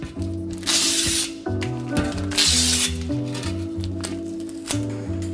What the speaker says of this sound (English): we're going to use the glue and sealant remover, give that a healthy dose all the way around the rim